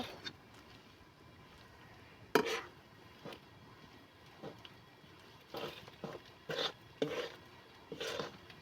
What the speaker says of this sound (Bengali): এইভাবে নেড়ে আমি নেড়ে চেড়ে গুড়টা আমি গুলিয়ে নেব।